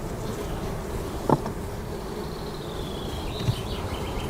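A small honeybee swarm on wax foundation gives a steady, dense hum of buzzing close by that fills the whole stretch evenly, with a couple of faint knocks and no talking.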